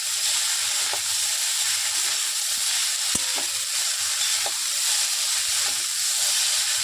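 Chow mein frying in a pan while being stirred, a steady close sizzle with intermittent scraping taps of the utensil, alone without talk.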